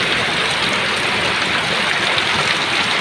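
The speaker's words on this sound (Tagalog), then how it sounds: "ang lakas ng ulan no oh" Steady, heavy rain from a tropical storm pouring in a dense, unbroken hiss, loud and continuous throughout with no pauses, in Tarlac City, Philippines.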